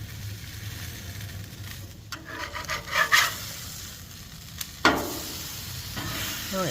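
Chicken Juicy Lucy burgers sizzle as they char on a grill, a soft steady frying hiss with a few brief scrapes and clinks partway through.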